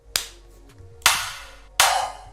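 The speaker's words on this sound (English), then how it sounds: "let's see if we can put a bit of reverb on it to make it sound more like a clap" A drum-machine snare sample treated with reverb so it passes for a hand clap: three sharp, bright hits spaced roughly a second apart, each with a quick reverberant tail, heard alone and up close.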